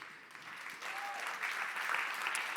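Applause from a conference audience at TechChill, a dense wash of clapping that swells midway and stays steady, heard from within the hall without speech.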